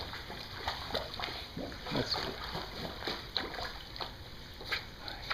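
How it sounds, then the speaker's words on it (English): A dog named Teddy swims and splashes, with a steady stream of close, irregular water sloshes and small splatters across the whole stretch, no voices over it. "He's swimming like a crazy dog."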